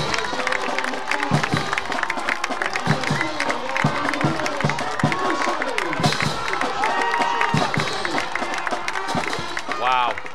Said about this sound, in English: Let the crowd take it from here.